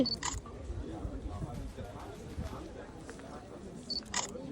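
A camera shutter clicks twice while photographing people in Kobe, Japan, once near the start and once near the end. The crisp, close clicks sit over soft background chatter and room noise.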